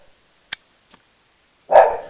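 A single dog bark bursts out near the end, loud and close in an otherwise quiet indoor room, preceded only by a couple of faint clicks.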